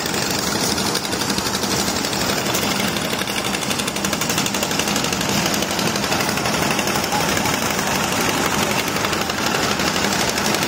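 Sand-extraction trawler engines on a river in Sylhet, a loud, steady, rapid mechanical chugging that runs continuously throughout with no pauses, close and dense.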